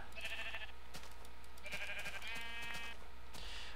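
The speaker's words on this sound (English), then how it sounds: "And what is it with sheep in my world?" Sheep bleating in the video game Minecraft, several wavering calls in a row, moderately loud over steady background noise.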